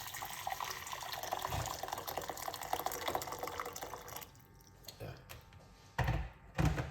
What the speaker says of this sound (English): pour some hot water into the pot.